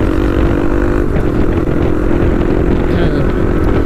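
A motorcycle with its dB killer removed from the exhaust runs loud and close, a continuous throaty engine drone with steady firing pulses and no pauses across the few seconds.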